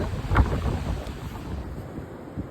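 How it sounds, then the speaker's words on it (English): Gusty wind buffets the microphone on a beach during a rainy night of fishing for bass, a continuous low roar with a few louder surges. "it's been really windy"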